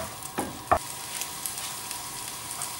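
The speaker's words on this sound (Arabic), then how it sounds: "وبداي قلي فيهم هكدايا" Garlic fries and is stirred in a pan for green bean gratin, giving a soft steady sizzle broken by a couple of brief utensil scrapes near the start.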